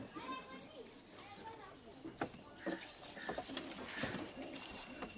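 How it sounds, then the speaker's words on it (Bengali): Lalmon pigeons coo softly on a pigeon farm, mixed with a busy background of other birds and people talking nearby. "লালমন পেয়ার আপনারা অনেকেই খোঁজেন"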